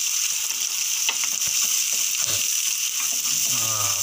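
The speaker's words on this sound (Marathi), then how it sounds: "गॅस जरा स्लो मोशनला ठेवायचं आणि वाटण टाकायचं त्यामध्ये" Ground masala paste frying in hot oil over a low gas flame while being stirred for a Konkan crab curry, a steady close broadband sizzle running throughout with a few soft scrapes and no talking.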